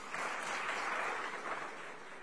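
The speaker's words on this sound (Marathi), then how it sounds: "टाळ्या वाजवा यांच्यासाठी." An audience at a political speech in Vidarbha claps together, a sustained, fairly loud burst of applause that swells and then slowly eases off.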